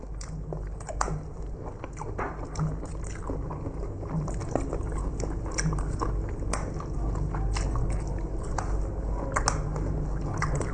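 Close, continuous biting and chewing of home-cooked food during an eating challenge, with moist crunches and squishy mastication sounds repeating steadily throughout, no talking over it.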